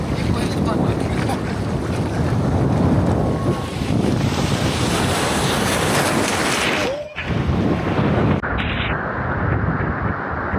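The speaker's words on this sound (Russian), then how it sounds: "А сейчас океан!" Ocean surf along the Vietnam coast rolls in under heavy wind buffeting on the microphone during a motorbike trip, with a continuous loud wash and a brief dropout near the end.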